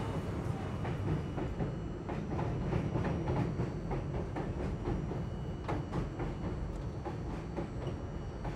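New York City subway cars riding the J line rumble steadily from inside, with a continuous rhythmic clatter of wheels over rail joints and a low, droning roar throughout.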